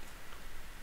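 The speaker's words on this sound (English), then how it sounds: "Oh, it's rain." Rain in the video game Craft The World, a dense, steady patter of falling drops that fills the short moment evenly, soft and continuous with no voices.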